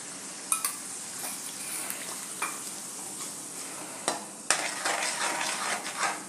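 Masala with milk for a cashew and paneer curry is sautéed in a pan, giving a steady close sizzle under repeated spoon scrapes and sharp clinks against the pan, with no voices.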